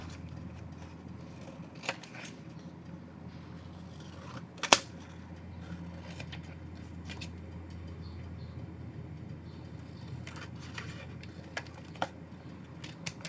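Scissors trim cardstock scraps in faint, intermittent snips over a low, steady background hum. One louder, crisp cut stands out near the middle.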